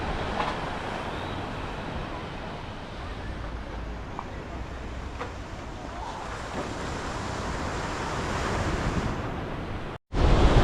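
Surf and wind on the beach at Nawiliwili, Hawaii, a steady loud roar of breaking waves with gusty wind buffeting the microphone, cutting out briefly near the end.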